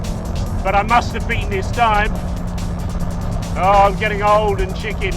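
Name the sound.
car driving through hairpin on race track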